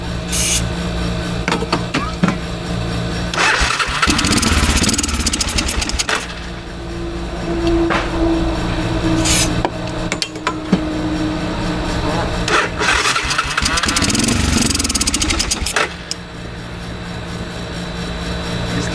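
A 1986 Honda Fourtrax four-wheeler being cranked over and over, loud whirring starter grinds in repeated bursts with sputters and brief pauses between attempts, close up and continuous.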